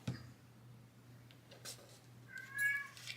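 A pet cat meows a couple of times in a quiet craft room, faint and slightly distant, over a low steady hum, with no one talking.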